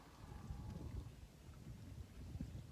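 Wind gusts buffet the microphone in a steady low rumble while someone fishes from a boat on open water, the blowing continuing unbroken throughout.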